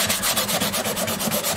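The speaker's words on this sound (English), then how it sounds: "do a whole lot more of this sanding off camera" Hand sanding on the wooden body of a custom 12-string dreadnought guitar, with quick, steady back-and-forth abrasive strokes, close and fairly loud, with nobody speaking.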